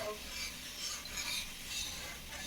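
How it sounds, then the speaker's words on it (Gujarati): Sheera being stirred in a pan until the sugar dissolves, a soft continuous scraping and rubbing with a faint sizzle, fairly quiet and with no voices. "હવે હલાવું છે જ્યાં સુધી ખાંડ ન ઓગળે ત્યાં સુધી"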